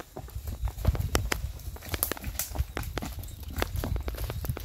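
Hooves of a ridden horse walk along a path in Chirilagua in an uneven, steady clip-clop. The hoofbeats are faint and fairly close, with light scuffing between them.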